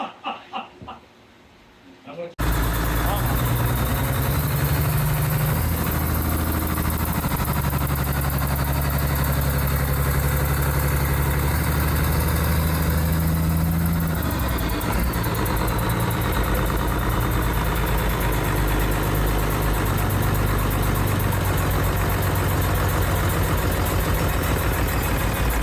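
Shop tractor engine starting up and settling into a steady, loud idle, a continuous low rumble after a brief quiet moment at the start, running alone for the rest of the clip.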